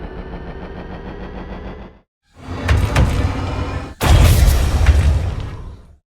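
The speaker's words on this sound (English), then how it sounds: "The idea was to create a charging ramp for the shield attack of the golem." Video game sound effect of a charging ramp for a golem's shield attack: a loud layered mechanical roar that swells in three stages, each louder and harsher than the last, with gritty crackles before it cuts off.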